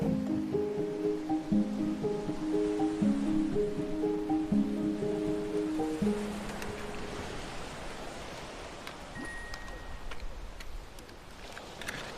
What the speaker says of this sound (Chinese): 大海你好